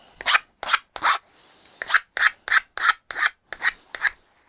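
A metal part for a Freddy Krueger glove prop is deburred by hand with a file, giving eleven close, regular rasping strokes with a brief pause partway through.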